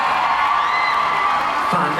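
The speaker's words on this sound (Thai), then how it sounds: "ขอเสียงปรบมือให้กับนักแสดงของเราจากวิมานน้ำขอบคุณมากครับ" An audience at a Thai film gala premiere cheers and applauds the cast in a dense, continuous crowd roar with whoops, loud and close throughout.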